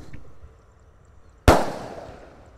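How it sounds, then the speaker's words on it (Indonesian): A 3-inch Bima Sakti Roman candle firework fires a single sharp, loud launch burst that decays quickly into a fading crackle against a quiet outdoor background. "lanjut yang kita nyalakan Bima Sakti Roman Candle ukuran 3 inci guys"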